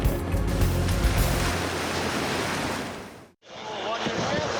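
Monster ocean waves break against a boat at sea, a loud continuous roar of surf and rushing water with wind buffeting the microphone, briefly cutting out before the crashing resumes.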